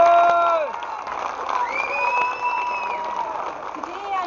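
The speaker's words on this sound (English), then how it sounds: "Ladies and gentlemen, big round of applause." An outdoor rally crowd in Manchester cheers, whoops and claps after a speech, a loud burst that fades to a steadier mix of applause and shouting voices.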